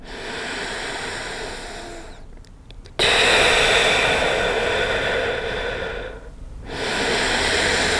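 Deep, slow breaths during a lower back mobility exercise, with a long drawn-in inhale and a loud, airy exhale heard close to the microphone, alone and without speech.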